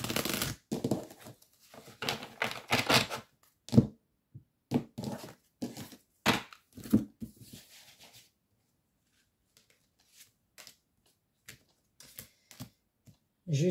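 Tarot cards being shuffled and handled by hand, quick bursts of riffling and slapping cards, with dense clusters at first that thin out into scattered taps and soft shuffles, close and fairly quiet.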